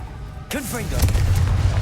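In Hogwarts Legacy, the Confringo fire spell is cast and hits with a whooshing burst followed by rumbling explosive booms, loud and close, with swooping tonal spell effects over it.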